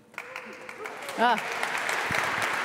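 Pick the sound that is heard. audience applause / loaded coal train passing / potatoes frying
audience applause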